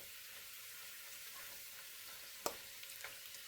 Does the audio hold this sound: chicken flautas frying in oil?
yes